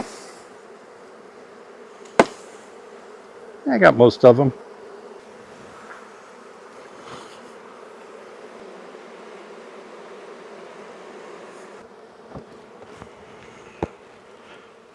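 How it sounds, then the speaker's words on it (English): A steady drone of many honeybees buzzing close by at a hive as bees are shaken off a frame, with a brief louder burst of agitated buzzing and a few short spoken words over it. "we got to shake the bees off of this frame that was against the wall"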